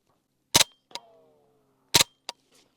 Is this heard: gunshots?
yes